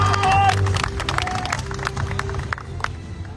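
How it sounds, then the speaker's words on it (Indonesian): A crowd at a political campaign declaration rally for a vice-presidential candidate applauds and cheers, a dense wash of clapping mixed with loudspeaker sound and scattered voices. "Beri tepuk tangan yang meriah untuk bakal calon wakil presiden."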